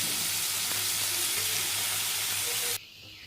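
Chicken pieces sizzle steadily in a hot pan for shawarma, a loud continuous frying hiss with faint stirring, cutting off abruptly near the end.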